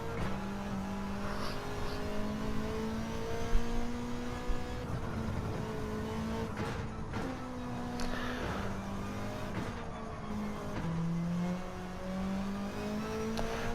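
Race car engine in a GT2 racing game at Autopolis, a steady high-pitched drone with rising and falling pitch through gear changes on the final lap, loud and continuous with no talk.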